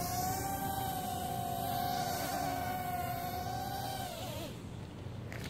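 Upgraded motors on a Nano QX FPV micro quadcopter held at full throttle give a loud, steady high-pitched whine that dips in pitch near the end, with no talking.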